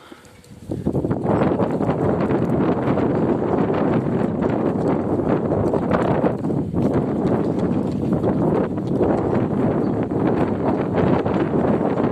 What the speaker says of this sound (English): Still very blowy at the moment.